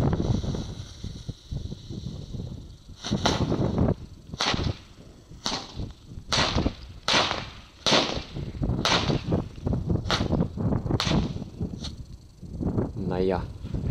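Rapid crackling bangs from a small Comet jumping jack firecracker, around ten sharp pops spaced irregularly, fizzing between them, fairly close by.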